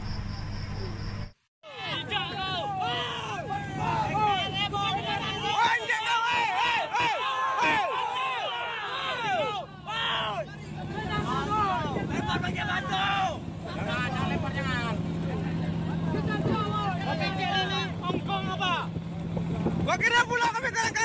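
Angry Langkat fishermen shout and yell over one another at sea as a foreign ship enters the waters of North Sumatra, with a boat engine droning steadily beneath the crowd of voices.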